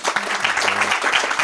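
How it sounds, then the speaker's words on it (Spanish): Audience applause at a Spanish-language special broadcast event, a brief dense burst of clapping from a crowd, loud and close, with no talking over it. "Les damos un fuerte aplauso."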